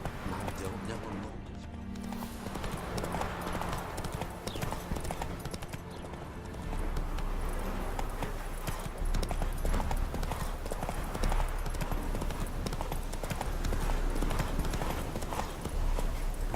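Horse hooves clip-clopping at a steady galloping rhythm as Roach runs in The Witcher 3, layered over game music and ambience, with a voice speaking briefly.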